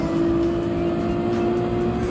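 A Toyota Supra with a 2JZ engine racing at Deep Forest Raceway in Gran Turismo 7, a steady loud droning engine note held at constant pitch with no talk.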